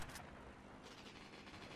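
Faint gunfire in GTA Vice City: a short cluster of sharp shots and a second burst near the middle, all quiet and dense throughout.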